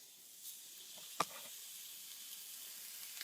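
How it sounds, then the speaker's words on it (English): Small fish pieces sizzle in a hot oiled pan for fish tacos, a faint steady hiss with one sharp crackle near the start. "the pan is definitely hot, so we're going to definitely hear some sizzle in just 1 second here"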